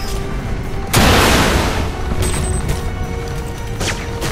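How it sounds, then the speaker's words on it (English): Missiles exploding in a video game: a loud, near blast bursts in and decays over about a second, followed by fainter rumbling and a second, weaker hit near the end. "Any of these missiles hitting?"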